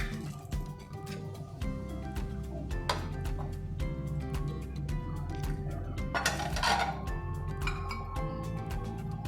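Noodle pakora batter ingredients stirred together in a bowl, giving scattered light clinks and scraping knocks against the bowl over a steady musical bed, moderately close.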